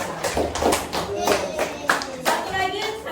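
Classroom applause for a student breaks out, a brief scattered burst of hand claps from a group of children, with some voices mixed in.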